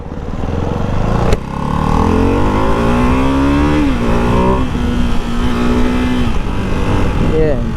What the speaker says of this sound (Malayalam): നമുക്കൊന്ന് സ്പോർട്ട് മോഡ് ഇട്ട് നോക്കാം എത്രത്തോളം അക്രമം ഈ വണ്ടി കാണിക്കുമെന്ന്